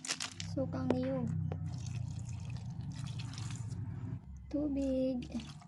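Coconut vinegar poured into a cooking pot of fresh fish for paksiw, a steady trickling splash running for several seconds under voices in the room.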